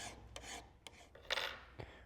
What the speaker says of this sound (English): Now that I've got these cleaned up a little bit with the file